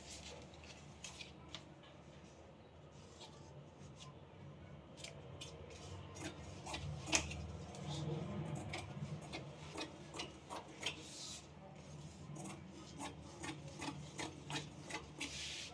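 Scissors cutting blouse fabric, a quiet series of short crisp snips, sparse at first and then coming in a quicker run, close by in a still room with no talk.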